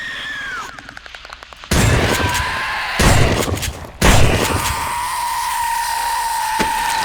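Several loud, sharp shotgun blasts in the survival game 7 Days To Die, each a sudden broadband burst with a ringing tail, spaced about a second apart over a steady electronic tone.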